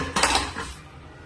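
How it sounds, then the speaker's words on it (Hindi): A pressure cooker is set down in a home kitchen, a single sharp metallic clank and rattle followed by a brief fading ring, loud and close with no talk. "और मैं यहाँ पे कुकर को रखूँगी।"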